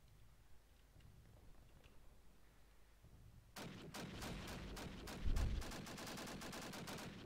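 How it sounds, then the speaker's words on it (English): Gunfire from allies shooting out of bushes in a WWII shooter match on Carentan, a sudden dense volley of rapid shots and heavy bursts that starts after a quiet stretch and keeps going to the end. "one of the allies just was shooting from the bushes"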